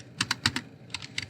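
Keys clatter on a computer keyboard as code is typed, a close, crisp run of about eight clicks in two quick bursts with a short pause between, heard alone without any voice.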